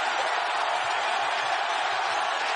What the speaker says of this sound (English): And the crowd is going bonkers.